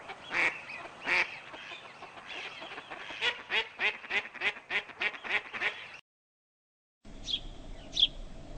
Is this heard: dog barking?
no